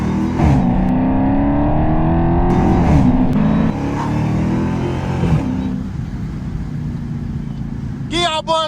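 A catless Dodge Hellcat revs hard and accelerates through the gears, loud and close, before settling to a quieter cruise, with a brief chirping sound near the end.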